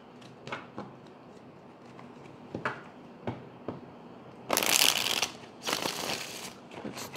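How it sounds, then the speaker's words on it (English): A tarot deck shuffled by hand in three rounds, with scattered soft card taps followed by loud, close riffling bursts near the end. "Let's get three shuffles."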